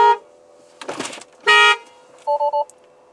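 A car horn sounds loud and close: a brief honk, then a longer blast, then three rapid short beeps, with silence between the bursts.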